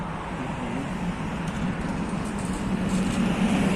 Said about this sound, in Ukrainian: Вже їде наш трамвай.